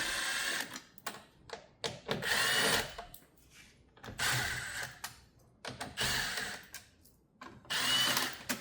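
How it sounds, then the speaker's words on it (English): A power driver spins out Torx fixings from the grille of a 2024+ Ford Transit Custom, giving about five loud, close bursts of high whirring, each lasting a second or so, separated by short pauses. "So we're going to go ahead and remove these 5 fixings."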